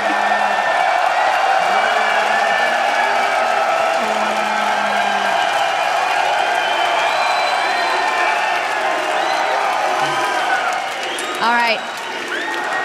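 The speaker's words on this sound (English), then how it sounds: "I don't think they're ever going to stop clapping." Sustained crowd applause with scattered cheers and whoops from an arena audience after a League of Legends EU LCS Summer Split 2014 esports match, steady and dense throughout, with a man's brief remark near the end.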